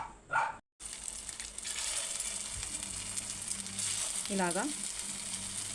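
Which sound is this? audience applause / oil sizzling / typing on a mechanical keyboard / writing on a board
oil sizzling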